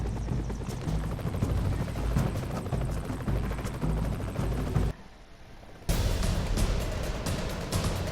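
A small helicopter landing in the video game Broforce, heard as a steady whirring rotor drone with gunfire-like crackle, briefly dropping out before returning loud.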